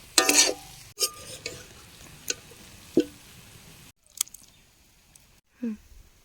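A spatula scrapes and stirs cabbage curry (bandhakopi sabji) in a pan, with short irregular strokes and a faint sizzle, then a quieter stretch with a last scrape near the end.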